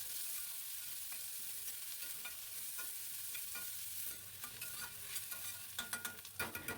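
Chopped onions fry in leftover fish-frying oil tempered with nigella seeds for a bele fish curry, giving a continuous close sizzle, with scraping spatula stirs that grow sharper and more rhythmic toward the end.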